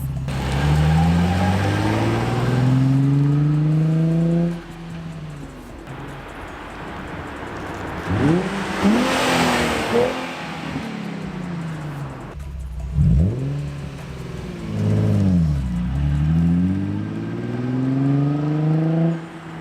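A Nissan 350Z with an ARK Grip exhaust roars past several times, revving then swooping down in pitch as each pass comes close by, loud and rumbling.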